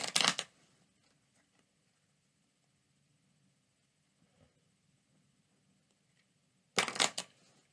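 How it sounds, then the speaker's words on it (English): A deck of playing cards is riffle-shuffled twice, with a crisp, close burst at the start and another near the end, separated by a long, nearly silent gap. "first we're going to give the deck a few shuffles"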